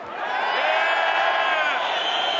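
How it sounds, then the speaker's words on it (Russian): Crowd of hockey fans at an arena game roaring and cheering in a sustained, loud wash of noise after a dangerous scoring chance, with whoops rising over the din. "Эмоционально реагируют болельщики"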